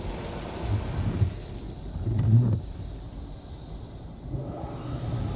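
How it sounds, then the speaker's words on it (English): Automatic car wash rinse at a PDQ Tandem ProTouch touchless bay, with a steady low rush of spraying water swelling and easing in waves around the vehicle, close and continuous with no talking. "now we're getting some sort of rinse right here"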